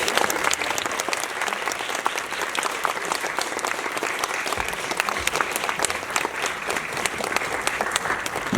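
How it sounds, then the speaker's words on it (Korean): A cinema audience at an Apgujeong screening Q&A keeps up long, even applause while actress Im Soo-jung walks to the stage, a dense unbroken patter of many hands. "무대까지 오시는 길이 조금 길어서 길게 좀 박수 부탁드립니다."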